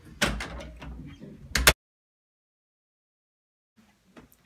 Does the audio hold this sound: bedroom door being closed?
yes